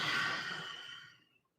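A single long, breathy exhale pushed out through the mouth during a yoga breathing sequence, loud and close at the start and fading to silence over about a second and a half.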